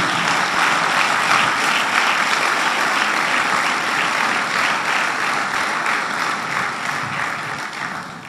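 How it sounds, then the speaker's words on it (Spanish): A church congregation breaks into loud, sustained applause during a worship service, dense clapping that holds steady and then tapers slightly toward the end. "Un fuerte aplauso al Señor"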